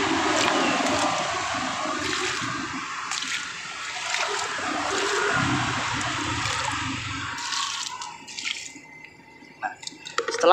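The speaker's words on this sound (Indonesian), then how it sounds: "ini saya siram terlebih dahulu semuanya" Water splashes and trickles steadily as plants in growing media are watered before compost is added, with a constant pouring hiss that thins into scattered drips near the end.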